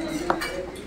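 Dishes clink on a hotel table as curry is poured onto a plate of rice, a single bright clink followed by soft scraping, close and fairly quiet.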